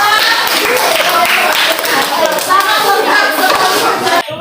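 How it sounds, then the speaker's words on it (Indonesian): A classroom group claps for presenting group 2, a dense patter of hand claps running steadily throughout and cutting off abruptly near the end. "Dan tepuk tangan untuk kelompok 2"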